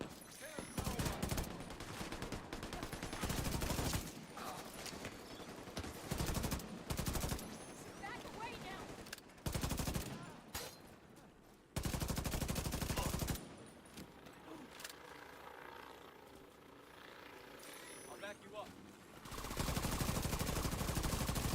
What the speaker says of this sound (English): People, can you stop shooting at us?